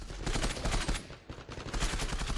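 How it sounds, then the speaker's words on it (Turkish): Rapid automatic gunfire in the online shooter Zula, a dense, loud stream of overlapping shots with barely a break, heard alone without talk. "Aa arkamdan atış etti."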